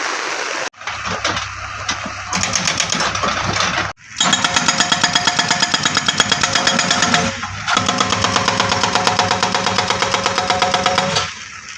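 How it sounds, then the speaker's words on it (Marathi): A loud machine breaking large stones at a cricket ground pounds in a rapid, steady hammering rhythm with engine roar, pausing briefly twice before resuming. "ही दगडी फोडायचं काम ही मशीन करते आहे"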